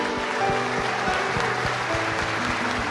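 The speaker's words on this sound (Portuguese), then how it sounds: "Pode aplaudir a ele" Applause from a church congregation at an Easter service, a dense wash of many hands clapping together, steady and fairly loud throughout with no speech over it.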